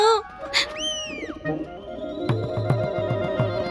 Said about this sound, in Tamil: என்ன இன்னொரு புறா வந்திருக்கு நிச்சயமா இன்னொரு தகவல் வந்திருக்கு